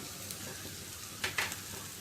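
Boiled potato pieces for jeera aloo hit a hot pan and fry, with a steady low sizzle throughout and a couple of brief louder crackling bursts near the middle as they settle, close and alone.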